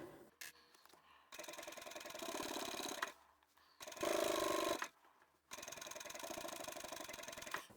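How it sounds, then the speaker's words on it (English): A sewing machine stitches a leather or vinyl pouch in three steady bursts of rapid mechanical clatter, separated by short pauses, close and fairly quiet with no voices. "Back stitch and sew to the end."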